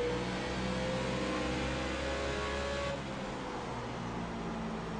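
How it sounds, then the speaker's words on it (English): In the iRacing game at Bristol, a NASCAR Nationwide race car passes close by amid other cars, its engine a loud, steady droning whine whose pitch drops as it goes by. "You can hear that car to my left, because you can't see it."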